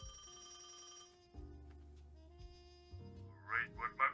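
A telephone rings in a video game, a synthesized electronic ring with sustained tonal bursts over soft game music, fairly quiet.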